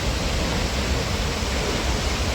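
Hardraw Force, England's highest single-drop waterfall, set in woodland in Wensleydale in the Yorkshire Dales, gives a dense, steady roar of falling water that stays loud and even throughout, with no voices.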